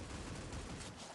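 Dense, continuous volley of gunshots from Critical Ops, a mobile first-person shooter, filling the whole short moment with loud overlapping cracks and no gaps.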